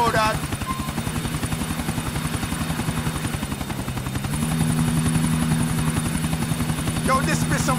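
A helicopter flying in the video game GTA IV, a loud continuous rotor chop with a fast steady pulse that grows slightly stronger partway through, heard from inside the cabin with voices talking over it.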